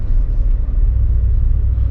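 A 2022 Brabus G800 pickup XLP drives along with a steady, loud low-frequency engine rumble and road noise, continuous and close, with no talking.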